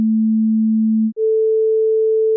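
A steady low 220 Hz pure tone holds for about a second, then jumps cleanly to a 440 Hz pure tone an octave up that sustains, loud and alone.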